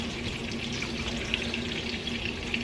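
Garlic sizzling in a pan for homemade spaghetti tomato sauce, a steady close crackle and hiss with a few small pops, no voices.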